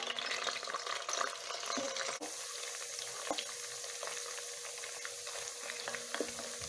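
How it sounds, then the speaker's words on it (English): Steady, bright sizzling of beef frying in hot oil for a Jollof rice stew base, with occasional pops and clinks of a utensil stirring. "I'm just gonna start frying"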